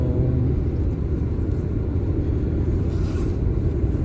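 Steady low engine and road rumble inside a car travelling at about 56 kilometres per hour on a road trip toward Kimberley, continuous and fairly loud, with no talking.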